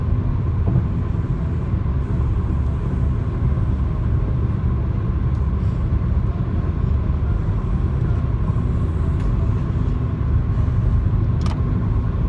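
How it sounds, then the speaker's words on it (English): Inside a moving car, a steady, loud low engine and road rumble drones on without a break, with no talking. "we're driving"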